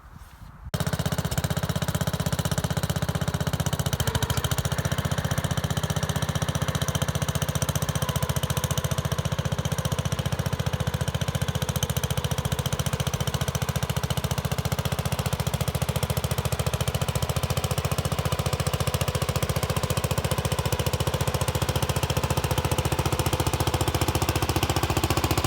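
A 1975 Bolens G14 lawn tractor engine, an unfinished project with parts missing, starts up and runs steadily at a loud, close, rattling idle with a constant knocking drone throughout and no talk.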